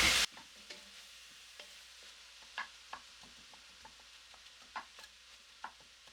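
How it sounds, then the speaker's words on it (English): Garlic frying with onions and ground meat in a pan: a quiet background sizzle broken by sparse spatula scrapes and taps at irregular intervals, close but soft, no one talking. "We just want to cook that garlic just a bit with the onions and the ground meat"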